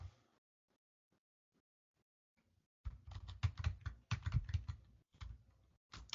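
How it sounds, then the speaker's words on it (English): Typing on a computer keyboard while entering Linux commands: a few faint isolated taps, then a close, rapid burst of clattering keystrokes in uneven clusters with short pauses, and no voices. "I'm typing it wrong"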